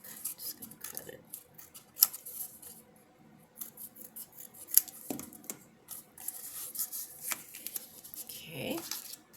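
Scissors snip through a paper craft piece for a Halloween-themed summer decor project, giving a run of small crisp cuts and rustles up close, with quiet talk in between.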